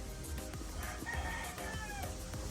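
A straight comb sweater stag rooster crows at a backyard breeder's yard, a short, fairly faint call standing alone with no talk over it.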